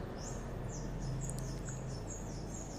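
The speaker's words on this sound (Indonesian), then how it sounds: "banyak burung di tempat ini juga." Birds calling in a forest near a limestone spring, a series of thin, high repeated chirps and short whistled notes over a constant noisy background of running water or wind, faint and somewhat distant.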